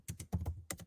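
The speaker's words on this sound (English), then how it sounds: "Your keyboard's coming in a little bit there" Quick bursts of typing on a computer keyboard: about six sharp clicks in uneven pairs, close and fairly loud, with no talking.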